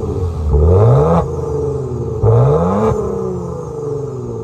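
A Maserati exhaust revs loudly twice, each rev rising sharply in pitch and then dropping back to a throaty idle, close by.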